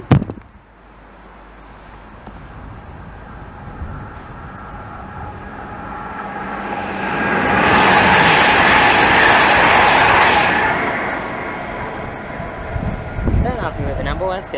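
A passenger train bound from London to Great Malvern passes at Maidenhead on the Great Western Main Line, swelling from a low rumble to a loud, broad roar at its peak, then fading, with outdoor ambience around it.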